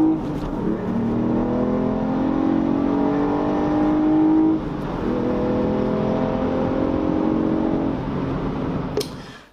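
Ford Fiesta ST200 and a 2019 Fiesta ST accelerating side by side in a drag race, engines droning with a rising whine through the gears, loud and close, dropping briefly at a shift before fading out.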